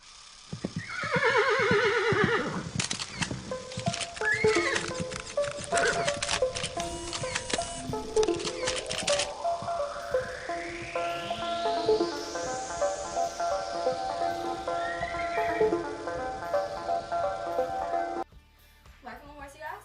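A running horse whinnies loudly near the start, then hoofbeats clip-clop along under a person talking, with swooping electronic effects and music layered in the background.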